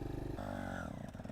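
Small training motorcycle engine idling low and pulling away slowly under a learner rider, a steady mid-pitched drone close by with a slight rise in note partway through.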